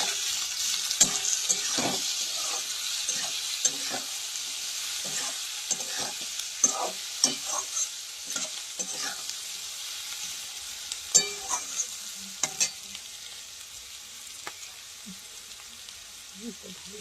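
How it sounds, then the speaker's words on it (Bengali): Potatoes and onions frying in a pan with turmeric and salt, a steady sizzle running throughout with repeated scraping stirs and clatters of the spoon, close and moderately loud. "হলুদ আর নুন দিয়ে আলু পেঁয়াজটা ভাজা হচ্ছে"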